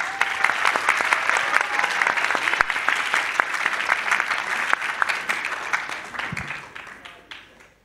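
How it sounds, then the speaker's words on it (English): Sustained audience applause fills a plenary session hall at the ASEAN Youth Summit 2025, steady and dense for several seconds before thinning out and fading at the end. "Salni Salazmi, audience, give her an applause"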